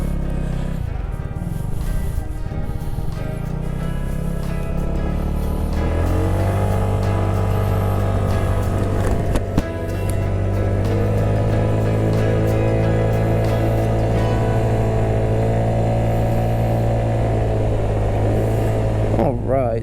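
A Buddy Kick 125i 125cc scooter fitted with a sport exhaust starts up and pulls away, its steady engine drone running loud and close throughout.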